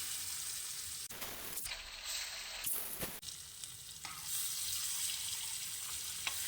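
Stuffed bitter gourd (karela) frying in hot oil, a steady broadband sizzle that holds throughout with brief clatter and stirring sounds, close and fairly loud, no talk.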